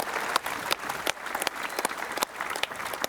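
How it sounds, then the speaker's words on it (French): Crowd applauding at a Tahiti Fighting Championship event, a steady dense burst of many hands clapping that holds for the whole stretch, with a few sharper claps standing out, no voices over it. "Maté Brodes, on peut l'applaudir, on peut les applaudir."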